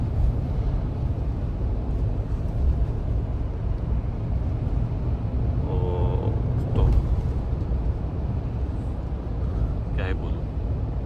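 Road traffic, with school buses passing at school hours, heard from inside a Mahindra Thar Roxx. A steady low rumble carries brief hiss-like bursts from passing vehicles, and there is light talk under it.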